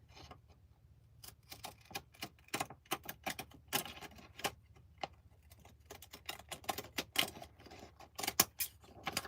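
Rapid irregular snipping and crinkling as scallop-edge scissors cut through vintage advertisement paper, sharp close clicks in uneven bursts over a quiet room.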